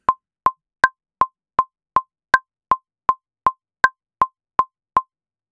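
Logic Pro X metronome, a steady run of short, dry, identical clicks at an even tempo, with every fourth click higher and accented to mark the downbeat, heard alone.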